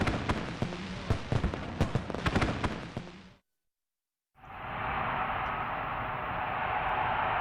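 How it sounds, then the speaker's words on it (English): Tennessee fall-night fireworks show by a pyrotechnics crew: a rapid crackling barrage of loud bursts and pops, a brief silence, then a dense sustained hiss and rumble of firework shells. "Fireworks."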